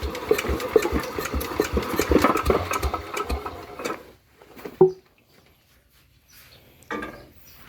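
Small engine with fresh paint and a hard-starting problem cranks and runs unevenly, chugging with a rapid mechanical rattle before cutting out, then giving a short cough and a brief restart attempt, close by.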